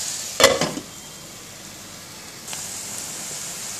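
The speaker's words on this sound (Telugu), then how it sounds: "ఈ ఉల్లిపాయ ముక్కలు, పచ్చిమిరపకాయ ముక్కల్ని బాగా వేగనివ్వాలండి." Onion and green chili pieces frying in oil give a soft, steady sizzle, with a brief clatter of a utensil against the pan near the start and a faint scrape later.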